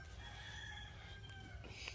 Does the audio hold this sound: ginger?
no